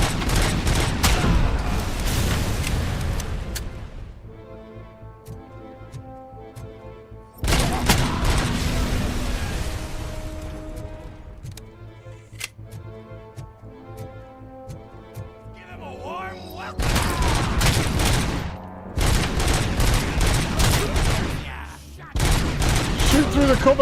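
Bursts of rapid automatic gunfire from a RoboCop video game come loud and close in several long volleys, with quieter gaps of game sound between them.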